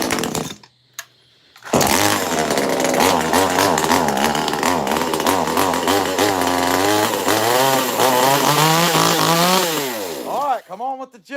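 A chainsaw carves the antlers of a large wooden buck, starting after a brief pause and then running loud and close at a steady high rev for most of the stretch before winding down in a few throttle bursts at the end.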